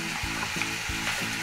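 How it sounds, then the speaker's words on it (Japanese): New onions stir-fry with a pinch of salt over medium heat, a steady close sizzle broken by rhythmic scraping strokes roughly every third of a second, with no voices. "これ炒めてるんですけども、焦がさないようにしてください。"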